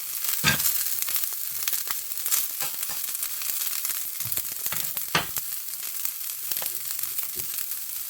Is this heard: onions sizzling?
yes